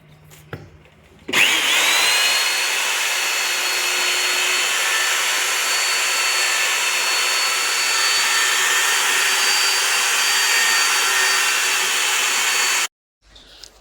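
An electric mixer churns wall putty powder with water, a loud continuous motor whine that starts abruptly and holds steady for about eleven seconds before cutting off.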